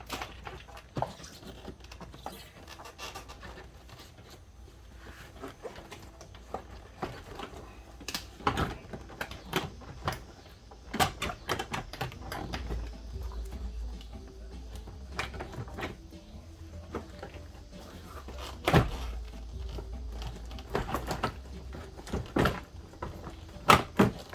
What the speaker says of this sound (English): got our whole door panel off